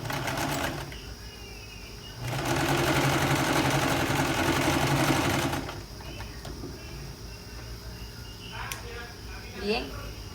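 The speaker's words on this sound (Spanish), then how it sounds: "ya he cosido las dos pinzas y ahí están armadas las pinzas" A sewing machine stitches darts on a shirt-dress in one steady burst of a few seconds in the middle, with speech-like sounds around it.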